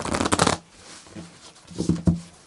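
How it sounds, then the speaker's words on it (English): Oracle cards are shuffled in two short bursts, a brisk riffling flutter up close followed after a pause by a couple of quicker flicks, with no talking. "Sometimes they just need shuffling until they free up."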